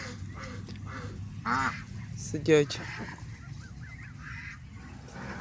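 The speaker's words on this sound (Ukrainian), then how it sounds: "мої водоплаваючі птахи" Geese and ducks in a small pen honk a few times, two loud nasal honks standing out over a low background murmur of fowl, with someone speaking quietly.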